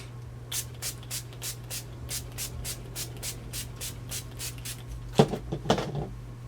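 Short bursts of setting spray misted onto a face during a makeup routine, a quick run of roughly a dozen soft, evenly spaced hissing puffs, followed by a couple of brief handling rustles.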